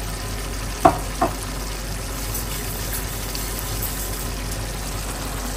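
Mung dal dry-fried in a pan for a chicken curry, a steady soft frying hiss throughout, with two brief close clinks early on and no other sounds.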